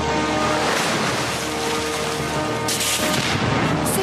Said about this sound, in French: La mer était démontée. Une tempête d'une violence inouïe faisait rage depuis 2 semaines